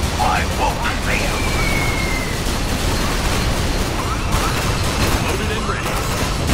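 Units in C&C Generals Zero Hour unleash a continuous gunfire barrage, a dense unbroken wash of loud booms and bursts running the whole time with voices calling out over it.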